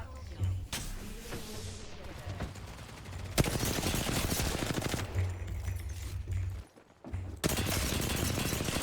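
Gunfire in the Apex Legends video game: loud bursts of rapid automatic fire with single shots between them, dense and near, broken by brief pauses.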